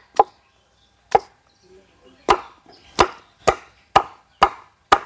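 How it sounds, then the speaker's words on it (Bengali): Potatoes are chopped into pieces with a knife on a board in a village kitchen, giving nine sharp, separate chops at a fairly steady pace, close and clear against near silence. "আলুগুলোকে পিস পিস করে নেব।"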